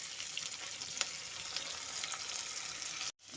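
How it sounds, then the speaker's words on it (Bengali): Ginger and green chilies frying in a pan for a cauliflower and potato dish, a steady high sizzle with a few soft stirring scrapes, close and continuous, cutting off abruptly near the end. "আদা কাঁচা লঙ্কাটাকে একটু ভালো মতো করে একটু মিক্স করে নিচ্ছি"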